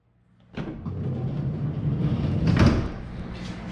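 The sliding side door of a Ford Transit Connect micro camper van rumbles open on its track, a close rolling slide that ends in a sharp clunk as it latches back.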